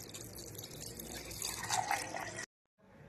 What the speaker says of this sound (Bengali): ওই চালের মধ্যে দিয়ে দেব কিছুটা জল